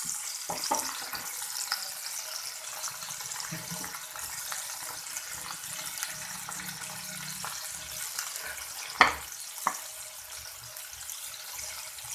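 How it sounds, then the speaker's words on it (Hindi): Chopped garlic lightly frying in oil in a pan for chicken kachori gives a soft, steady sizzle and crackle, faint and close, with a couple of sharper clinks of stirring along the way and no talking. "इसको हल्का सा हम फ्राई करेंगे।"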